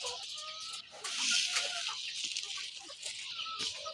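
Young chicks and ducklings eat a mix of feed and rice bran, giving off soft, quiet clucks and peeps. The small calls are scattered and overlapping over a few seconds, with no talking.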